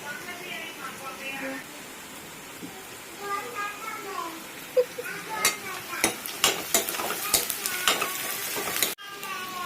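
Curry sizzles in a pan as a spoon scrapes and stirs it, giving a series of sharp metallic clinks over a soft frying hiss, with a voice speaking in the background.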